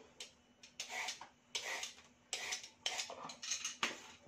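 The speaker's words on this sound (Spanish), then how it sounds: "Voy a cortar las verduritas" A knife chops vegetables finely on a board in a series of quiet, uneven taps and scrapes, spaced in short bursts, with no talk.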